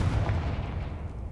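A Confringo blasting spell explodes in a video game, a loud low boom rumbling across the whole moment and fading slightly toward the end.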